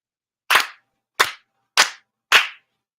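Four sharp ceremonial hand claps ring out at Shinto worship, evenly spaced with short pauses between them, crisp and close against silence.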